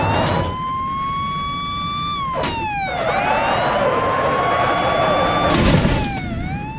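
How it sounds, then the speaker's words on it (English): Siren of a British police car: a loud, steady two-tone wail that slides up and down in long sweeps, with a couple of short noisy bursts. "British police car."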